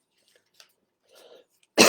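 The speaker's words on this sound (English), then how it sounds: "Excuse me for coughing." Mostly quiet, with faint rustles, then a single loud, sharp cough from a person with the flu bursts out right at the end.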